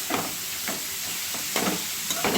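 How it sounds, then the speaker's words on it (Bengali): Chopped carrots fry in a pan with a constant, close hiss, broken by soft rhythmic scrapes of stirring every half second or so. "গাজরটা দিয়ে আমি একটু এটাকে ভাজতে থাকবো"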